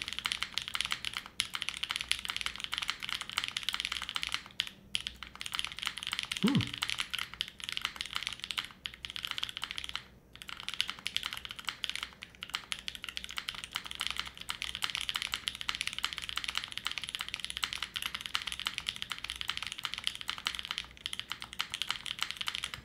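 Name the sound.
typing on a custom Alas 60 mechanical keyboard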